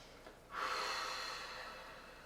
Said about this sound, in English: take a deep breath in through the nose